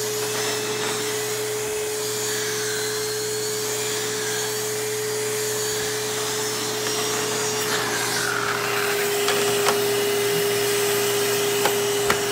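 A Hoover Windtunnel canister vacuum with an air-driven attachment runs steadily in a constant loud whine and hum, with occasional faint rubbing and bumping noises and no talking.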